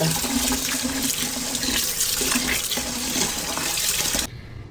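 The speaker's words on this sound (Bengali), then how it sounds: "সামনে যেটা পেয়েছি সেটার মধ্যে চাল ধুয়ে নিচ্ছি" Rice being washed by hand in a container of water, with continuous sloshing, swishing and running-water sounds close to the microphone that cut off near the end.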